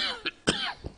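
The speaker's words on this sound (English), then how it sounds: "I'm sorry for this cough," A few short, harsh coughs close up from a chronic cough, with a throat-clearing rasp between them, and no talking.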